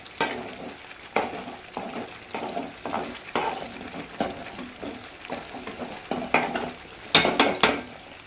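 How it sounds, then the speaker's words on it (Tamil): Prawns coated in ginger garlic paste fry steadily in a generous amount of sesame oil, with a continuous close sizzle and repeated stirring scrapes against the pan, and no talking over it. "இது இறால் இஞ்சி பூண்டு பேஸ்ட் எண்ணெயில் எப்படி வேகுதுன்னு பாருங்கள்"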